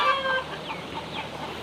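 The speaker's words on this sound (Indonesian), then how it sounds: "Kalau ayam habis bertelur biasanya seperti ini, sahabat ya." A village hen clucks after laying an egg in rural West Sumatra, a short burst of distant clucking followed by faint outdoor ambience.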